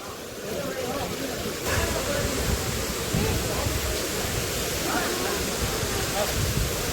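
Rushing water at the Murga Mahadev waterfall roars in a steady, dense wash of noise, loud and close throughout without a break.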